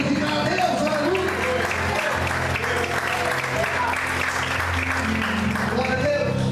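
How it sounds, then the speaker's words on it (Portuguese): A church congregation claps together in sustained, fairly close applause, with a preacher's voice carrying over the clapping throughout. "Você pode aplaudir e glorificar a Deus."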